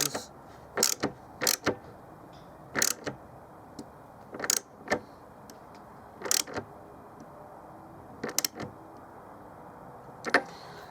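Ratchet clicks in short bursts while snugging up the seized rear wiper on a 2007 BMW E91 335i, several separate quick ratcheting runs spaced across the clip over a low room hum.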